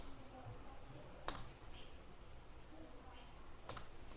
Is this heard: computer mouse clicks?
yes